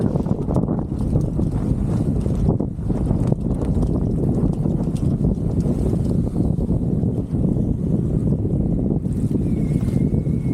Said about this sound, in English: the boat starts sliding backwards in the water until I can build up some speed